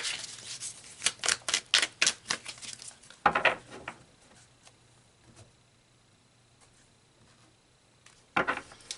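Tarot cards drawn and shuffled in a reading, giving a run of quick crisp flicking bursts close up, a sharp rustle at mid-clip, then quiet handling and a final snap of cards.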